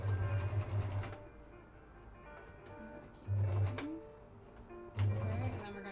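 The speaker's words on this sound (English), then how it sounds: "we're gonna backstitch first" A home sewing machine stitches fabric for a dress, running in short bursts: a couple of quick passes at the start, then two more loud bursts a few seconds apart, with a steady low hum and quieter room noise between them.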